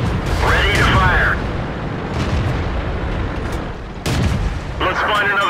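A tank cannon fires in a tank video game, with a heavy boom near the start and another a few seconds later. A voice talks loudly over the game sounds.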